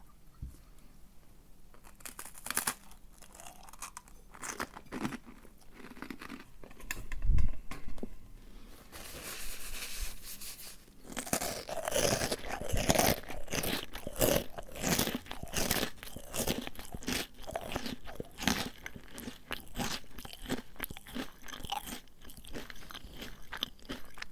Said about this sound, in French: Je vais croquer dans le blé complet.